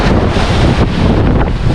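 Strong amihan monsoon wind blows across a seashore during a fishing outing, a loud, unbroken roar buffeting the microphone, with churning surf mixed into the close, steady rush and no voices.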